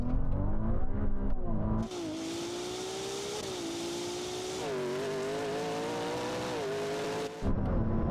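A McLaren P1 and a Ferrari 296 GTB accelerate hard in a race, with high-revving engine tones that rise and shift through gears. The engines are loud and close, with no talk.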